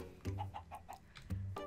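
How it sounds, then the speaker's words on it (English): Minecraft chickens cluck in a quick series of short, clipped calls, loud and close, with a couple of louder squawks at the start and end and no talking over them. "We just got chickens"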